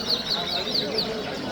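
Several birds chirp in short, repeated high-pitched bursts at a bustling Kora Kamish bird market, heard close by beneath people talking.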